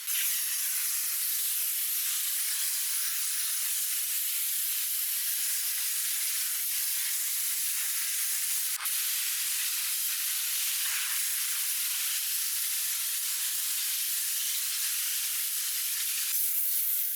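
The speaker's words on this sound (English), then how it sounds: "I'll start with a pre-rinse to remove as much loose dirt as possible" Pressure-washer water spray pre-rinsing a dirty Chevy Traverse's gravel-coated wheel wells, a loud, continuous close hiss that holds steady throughout with no talking.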